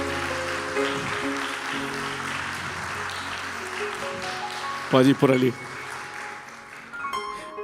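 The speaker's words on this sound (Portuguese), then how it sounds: "Uma salva de palmas para eles." An audience claps briefly for a couple called forward at a church gathering, the applause fairly short and mixed with a voice speaking over it.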